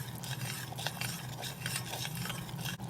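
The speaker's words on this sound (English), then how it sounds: "Next, I give the ingredients a stir." A spoon scrapes and stirs butter chicken curry ingredients in a pan, giving soft repeated scraping strokes over a low steady cooking hiss, fairly quiet and close.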